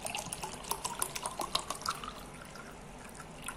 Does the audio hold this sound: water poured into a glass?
yes